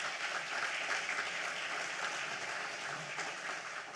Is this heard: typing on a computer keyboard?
no